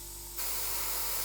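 A Gaahleri airbrush sprays paint for Warhammer and tabletop miniatures, starting with a soft background hiss that jumps to a steady, brighter airy spray and holds it to the end.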